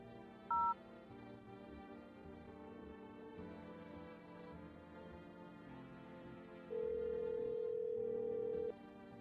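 A phone dialing in the horror game No I'm not a Human: two brief keypad tones near the start, then a long steady ringback tone over a low background hum.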